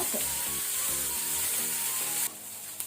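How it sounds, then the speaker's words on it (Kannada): Chopped onion with green chillies frying in a pan, a steady soft sizzle at close range that drops quieter near the end, with no talk over it. "ಈಗ ಇದರದ್ದು ಸ್ವಲ್ಪ ಆನಿಯನ್ ಅದು ಸಹ ಕಲರ್ ಚೇಂಜ್ ಆಗೋ ತನಕ ನಾವು ಫ್ರೈ ಮಾಡ್ಕೊಳ್ಳುವ"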